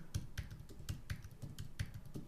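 Typing on a computer keyboard while entering router network addresses: quick, irregular clicky keystrokes, close and distinct, with no speech.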